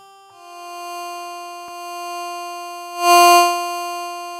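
Synth tone in the Mela 5 iOS app with a distortion effect, a sustained bright buzzy harmonic drone that shifts pitch slightly early on, then swells into a louder, grittier burst before settling back.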